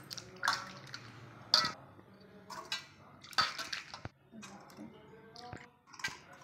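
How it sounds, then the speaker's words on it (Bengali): Water splashes and trickles as a peeled bottle gourd is rinsed by hand in a kitchen, in intermittent close bursts with small knocks and drips between them. "এখন আমি জল দিয়ে এটাকে ভালো করে ধুয়ে নেব।"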